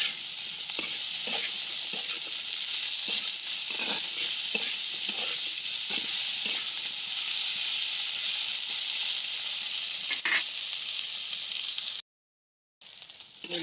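Okra and potatoes frying in a pan, a steady, close, bright sizzle with occasional stirring scrapes, cut off briefly near the end before resuming.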